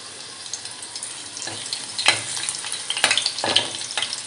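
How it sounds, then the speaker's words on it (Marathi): Garlic cloves and curry leaves sizzle steadily in hot oil for a Konkan dry fish dish, a close, continuous crackling hiss broken by a few louder spatters and stirring scrapes. "नंतर आपल्याला तेलावर ह्या लसूण पाकळ्या ॲड करायच्या आहेत."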